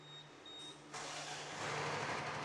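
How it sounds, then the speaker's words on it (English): A truck engine cranks and catches about a second in, then settles into a steady broadband rumble that grows slightly louder. The sound is close and heard alone, with no talk. "I'm going to start my truck"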